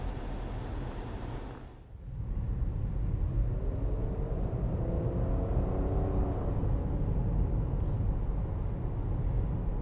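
Inside a 2015 Nissan Murano on a test drive, a steady low road and engine rumble fills the cabin, with a faint engine note rising as the crossover gathers speed.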